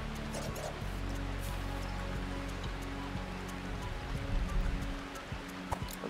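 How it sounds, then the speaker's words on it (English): Rain falls in the video game Spider: Rite of the Shrouded Moon as a steady patter with scattered droplet taps and a low game ambience running underneath. "But look, this is raining"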